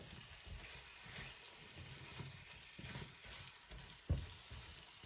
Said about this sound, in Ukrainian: Тим часом, поки яблука смажуться, ми почистимо і наріжемо дві цибулини.